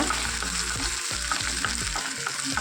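Onion, green chili and curry leaves stir-fry in oil in a pan, crackling and sizzling continuously while a utensil scrapes and stirs in a steady repeated rhythm, close up and without speech.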